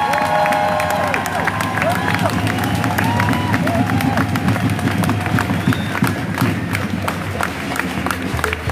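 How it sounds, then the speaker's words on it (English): Sustained applause from a large crowd at an outdoor rally, dense clapping mixed with cheers and murmuring voices, steady throughout. "A big round of applause for Dr. Marine Farouki."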